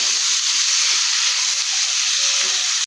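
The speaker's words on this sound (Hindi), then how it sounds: "सब्ज़ी की थोड़ी सी भुनाई कर लेंगे" Mixed vegetables frying on low heat in a pan for an Afghani omelette, a loud continuous sizzle and hiss that holds steady before cutting off abruptly at the end.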